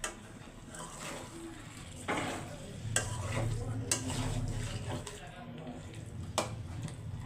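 Curry being sautéed down in a pan, with repeated scraping stirs of a spatula over a steady, moderate sizzle and a few sharper clinks against the pan.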